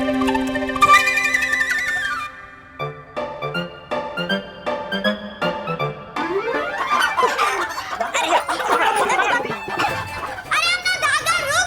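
A rooster clucking and squawking in a village setting, repeated loud calls mixed with other busy sound, heard close and clear in short bursts.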